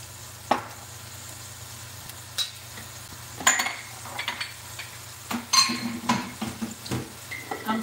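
Dishes and utensils clatter and clink in a kitchen during cooking, with scattered knocks and scrapes over a low steady hum, the bursts of noise growing busier toward the end.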